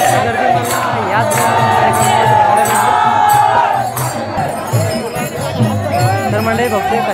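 Dense crowd of devotees at a Shri Ram Navami festival in Pajpandhari, a steady loud hubbub of many voices with faint jingling throughout.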